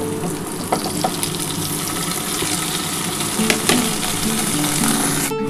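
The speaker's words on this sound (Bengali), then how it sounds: "এবার এই ম্যাগিটা দিয়ে দিলাম।" Maggi noodles sizzle and fry steadily in a pan alongside fried egg, a continuous close crackle with a few light clinks of a utensil and a brief clatter near the end.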